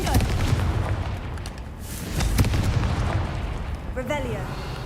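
A Confringo fire spell blasting in Hogwarts Legacy, with heavy booming bursts and rumbling crackle filling the scene, loud and sustained, with a couple of distinct hits and fainter effects near the end.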